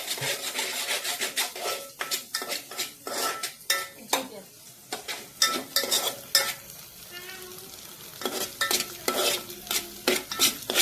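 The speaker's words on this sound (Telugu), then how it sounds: "ఎగ్ అయితే వేసేసాను, మంచిగా ఫ్రై అవుతుంది" An egg fries with boiled Maggi noodles in a pan, bright crackling sizzle under busy metallic scraping and clinking of a utensil against the pan, rhythmic stirring strokes throughout, close and fairly loud.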